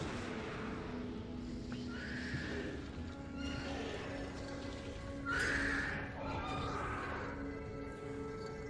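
Horsemen's horses in Guild Wars Reforged neigh and squeal repeatedly, with several shrill whinnies rising over a steady game background and hoofbeats, one louder squeal standing out midway.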